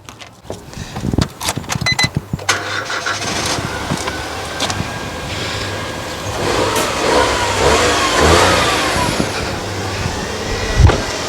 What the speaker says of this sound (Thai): เดี๋ยวผมสตาร์ทให้ดูเครื่องฮะว่าเครื่องมันนิ่งไหม